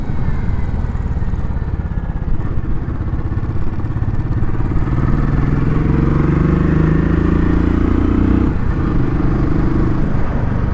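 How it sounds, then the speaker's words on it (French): A motorcycle engine drones loudly and steadily while riding, heard close up, with the pitch climbing and holding higher through the second half before easing near the end. "Le bruit est sympa, c'est pas un bruit d'échappement, c'est vraiment ça fait un bruit de moteur hein."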